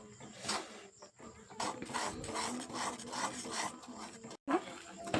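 Momo filling stirred in a pan until dry, a steady scraping and rasping of a utensil against the pan bottom in repeated strokes, close and fairly quiet, with a brief gap near the end.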